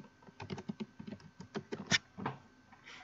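Typing on a computer keyboard, entering a search for house washing in Pensacola: a close run of quick, uneven key clicks with brief pauses and a louder keystroke near the end.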